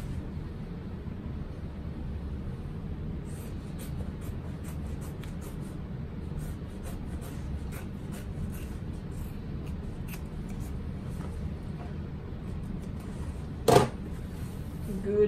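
Scissors snip away excess fabric and loose thread from a sewn Sydney crossbody bag, a run of light, quick clicks in irregular rhythm over a steady background hiss, with one sharper clack near the end.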